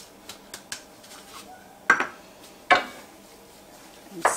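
Ground turkey with Italian seasoning stirred in a pan over medium heat, with a few sharp scraping clinks of a utensil against the pan amid quieter taps and shuffling.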